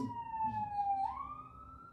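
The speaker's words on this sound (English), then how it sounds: "got some sirens coming up the mountain" A siren wails steadily with a slow pitch sweep, coming up a mountain road, heard from a distance over low traffic rumble.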